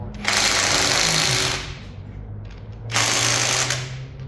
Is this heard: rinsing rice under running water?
no